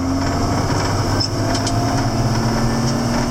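A 7410 tractor engine runs after an in-frame rebuild with a steady, even idle hum and a faint high whine, close and constant with no change in speed.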